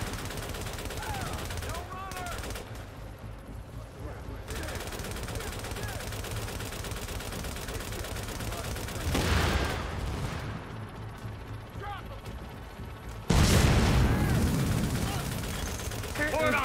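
Light machine gun fire in The Division: sustained automatic fire rattles under ongoing combat noise, with louder bursts standing out near the middle and end.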